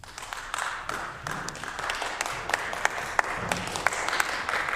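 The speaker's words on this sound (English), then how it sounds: "Thank my colleagues for that tepid applause." Members of a legislative assembly give tepid applause, scattered individual claps rising to a modest, uneven patter throughout.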